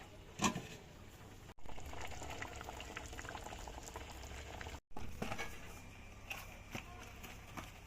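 Mustard greens fry in a pan with a continuous soft bubbling sizzle, fairly faint and close, broken by two brief cuts, with a few light knocks over the top.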